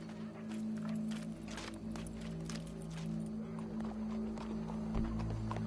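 Horse hooves clip-clopping at a steady walking rhythm in a PS4 video game, moderately near, under a constant low droning ambience with faint background voices.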